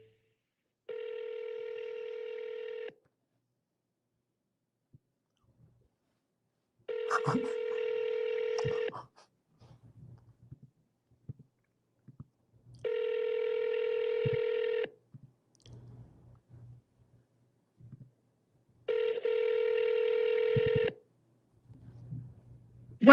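Telephone dialing tones sound while calling voters, four separate steady beeps each lasting about two seconds and spaced evenly apart, with faint quiet clicks and brief voice fragments in the gaps.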